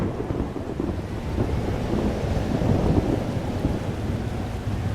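Thunderstorm with steady rain in the Life is Strange Double Exposure video game: a constant close rain wash with low rumbling thunder, loud and unbroken, with no voices.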